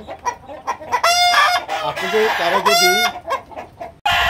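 Frightened Fayoumi chickens cluck and squawk loudly and excitedly, with a couple of sharp rising cackles standing out over continuous nearby flock noise.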